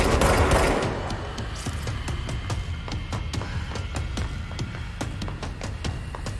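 Gunfire in the game Control opens with a loud burst, then settles into a steady run of sharp, evenly spaced shots over a constant background rumble.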